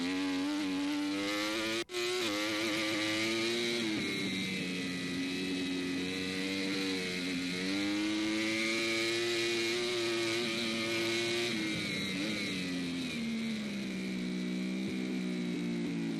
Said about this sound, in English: Beautiful sound of that Yamaha R1 engine